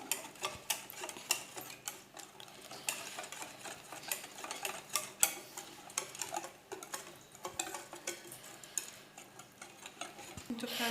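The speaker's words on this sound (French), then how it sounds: "Bien sûr, il faudra bien mélanger à chaque ajout." Batter being stirred after baking powder goes in for Kabyle thahvoult el marqa, with steady scraping and clinking of a spoon against the bowl that continues throughout.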